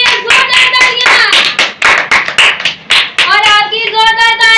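Loud, dense applause from a room of people at a children's ministry Bible competition, continuous clapping with a few voices and shouts mixed in.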